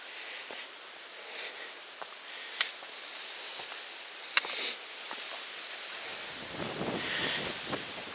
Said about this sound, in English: There's a nice breeze blowing on this side.